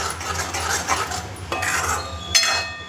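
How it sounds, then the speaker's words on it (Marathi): A spoon scrapes and stirs thick egg curry masala frying in oil in a pan over low heat, with steady scraping, soft sizzling and a few sharp clinks of metal on the pan. "चांगलं मिक्स करून घ्यायचं आणि चांगलं तेल सुटेपर्यंत बारीक गॅस करून चांगलं तळू द्यायचं आहे"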